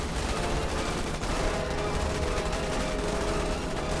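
Continuous distant gunfire and rapid fusillades from the Starship Troopers: Terran Command strategy game, a dense, steady rattle of shots with no speech.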